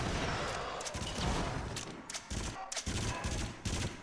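Rapid gunfire from the VR shooter Until Dawn: Rush of Blood bursts in dense, loud volleys with brief gaps between them, with faint talk mixed in.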